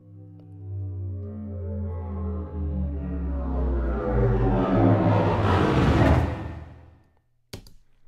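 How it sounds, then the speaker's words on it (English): A synthesized drop effect from Logic's ES2 synthesizer, a tone with stacked harmonics that builds and brightens, then sweeps downward into a noisy fade, followed by a brief burst after a short gap. "we've got this weird effect sound, this sort of drop sound"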